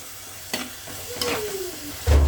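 Fish and rock salt are mixed for a Kerala-style fish curry, with three short scraping stirs sounding close against a low sizzling background.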